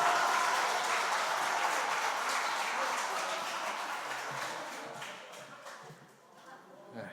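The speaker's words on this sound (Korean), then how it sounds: "박수 한번 주시고요" A church congregation at a family worship service claps, starting as a dense, loud burst of applause that gradually thins and fades over several seconds.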